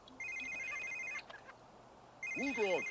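A mobile phone rings inside The Sims 3, a bright electronic ringtone that sounds in two bursts with a pause between them, followed by a short burst of Sims gibberish voice at the end.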